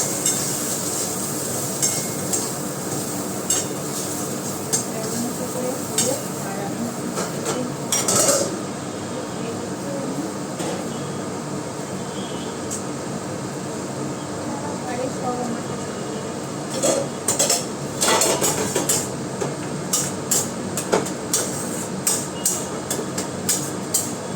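Eggplant pieces fry in oil in a home kitchen pan, giving a steady low sizzle throughout, with a few clattering utensil and pan knocks near the middle and toward the end.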